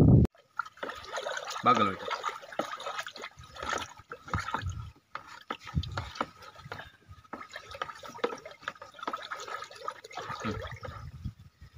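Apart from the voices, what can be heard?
pest oil being mixed into spray liquid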